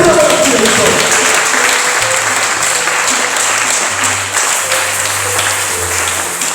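A church congregation claps loudly and steadily during a Sunday service to acclaim Jesus. The dense applause starts at full strength and tapers slightly, with some voices calling out beneath it.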